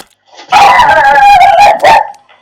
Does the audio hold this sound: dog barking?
yes